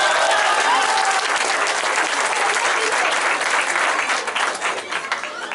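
A crowd gathered for a public works inauguration on Avenida Morelos in San Mateo Cuautepec claps warmly, a steady outdoor round of applause that tapers off near the end.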